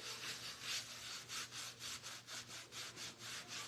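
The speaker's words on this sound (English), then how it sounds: "So I am now going to have to start rubbing it out" A hand rubs back and forth in a steady rhythm over a reverse canvas with a butterfly transfer to clear away wax. Each stroke gives a soft, dry, scratchy swish, about a dozen in quick succession, quiet and close.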